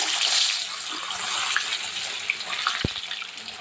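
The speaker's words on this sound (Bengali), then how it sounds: "তেল গরম হয়ে গেছে, দেখুন আমি মাছ দিয়ে দিচ্ছি।" Pieces of catla fish are dropped into hot oil and fry with a loud, steady, hissing sizzle close up, with a few small pops and spatters.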